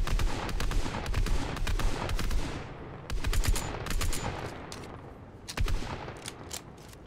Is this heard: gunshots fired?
yes